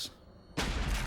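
A burst of gunfire in a TV action scene breaks out suddenly after a short quiet gap, loud and dense, filling the rest of the moment.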